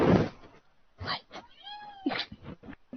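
A house cat meows a long, rising-then-falling call in the middle, with shorter muffled bursts of sound around it in a quiet indoor room.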